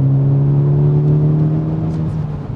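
MTM Coupe engine hums steadily in a strong low tone while driving, loud and close from the cabin, easing slightly toward the end with no talking.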